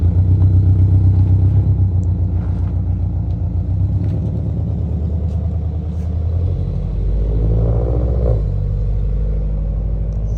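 Toyota GR86 fitted with new coilovers driving on the road, a steady close low engine rumble and road noise, easing slightly midway and then building again, with no talk.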